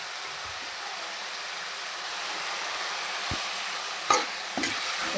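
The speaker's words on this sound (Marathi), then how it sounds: "सगळं आपण भाजून घेऊ त्याचं सगळं घालून त्याला चिंच गुळ हळद हिंग मीठ चटणी सगळं काही हलवून घ्यायचं" Peanuts roast in a pan with tamarind, jaggery, turmeric, asafoetida, salt and chutney spices, giving a steady low sizzling hiss, with a few sharp scrapes of a stirring spoon toward the end.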